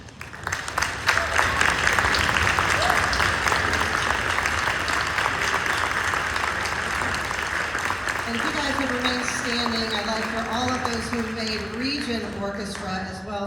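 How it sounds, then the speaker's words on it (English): Audience applause at a school orchestra concert for all-state orchestra students standing up; sustained loud clapping throughout, with sustained tones from instruments or voices emerging over the clapping toward the end. "Let's give them a round of applause."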